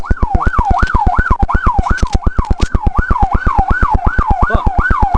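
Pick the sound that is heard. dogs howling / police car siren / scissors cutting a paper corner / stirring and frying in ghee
police car siren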